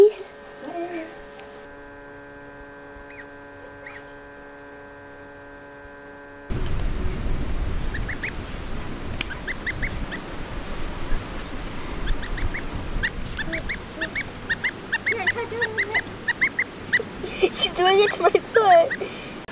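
Geese honking in a garden, loud clustered calls that grow busier toward the end, following a steady mains hum, with an adult and children talking throughout.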